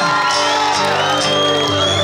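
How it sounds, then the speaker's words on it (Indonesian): A loud live concert crowd in Langsa shouts and cheers in a dense, continuous roar. Voices whoop over one another close by. "Tepuk tangan sekali lagi untuk kita semua."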